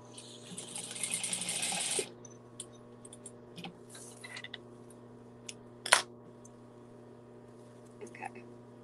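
A sewing machine stitches up a dart on a stuffed memory bear, a brief, fairly quiet whirring burst near the start, followed by scattered clicks and small handling sounds.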